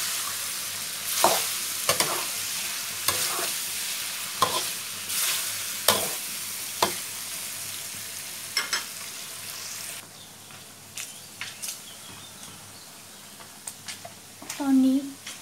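Pork fat rendering down into lard in a pan, a steady frying hiss under repeated scraping stirs of the spoon, several sharp strokes spaced across the clip with quieter stirring near the end.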